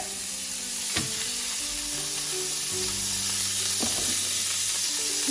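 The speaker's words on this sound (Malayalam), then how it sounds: "ഈ ബട്ടർ ചേർത്ത് കൊടുക്കുക" About a teaspoon of butter melts in a hot pan, giving a continuous soft sizzle and hiss over background music, with a couple of sharp clicks or taps near the start and middle.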